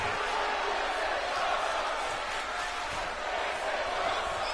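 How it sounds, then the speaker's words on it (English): Dense arena crowd in WWE 2K24 wrestling game, a loud continuous roar of many voices that could be the "this is awesome" chant, steady throughout. "the crowd saying this is awesome in the background"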